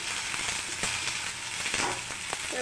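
Cabbage sizzles steadily in a hot pan for cabbage thuvayal, a dense continuous fry with a few soft stirring clicks, close and moderately loud, no voices.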